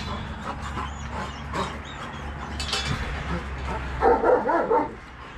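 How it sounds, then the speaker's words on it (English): Dogs barking outdoors, several short woofs and yips scattered across a few seconds at moderate distance, with a louder cluster of barks near the end over faint background noise. "There's our dogs."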